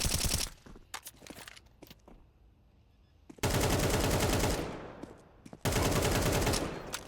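Automatic rifle spraying in Counter-Strike 2 during a collegiate match: long, loud, dense bursts of rapid gunfire at the start, middle and end, separated by quieter stretches of scattered shots and game sounds.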